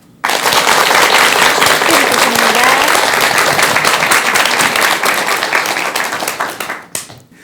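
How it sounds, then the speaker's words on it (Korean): Audience applause welcoming a monk's lecture on a Korean talk program: loud, dense crowd clapping starts abruptly and holds steady for about six seconds before fading out near the end. "그럼 큰 박수로 강연 청해 듣겠습니다."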